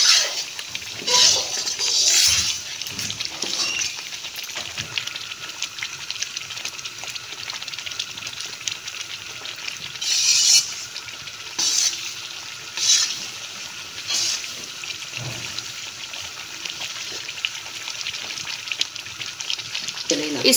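A spoon stirs and scrapes semolina frying in a pan with gram flour, producing repeated scraping strokes over a steady frying hiss, with a voice talking throughout.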